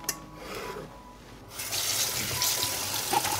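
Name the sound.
washing peppers under a running tap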